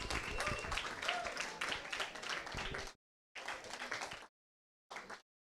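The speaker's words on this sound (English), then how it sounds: "Can I get a round of applause for the judges who came out?" An audience at a hackathon event applauds the judges, a loud burst of clapping that breaks off abruptly, returns briefly, then cuts out again.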